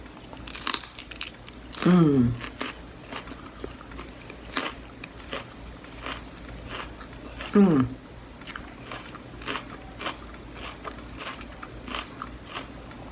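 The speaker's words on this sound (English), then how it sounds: "Crunch from the lettuce, crunch from the crackers, crunch from the celery." Crunchy bites and chewing of lettuce, crackers and celery, close and loud, with two strong crunch bursts and softer chewing between them.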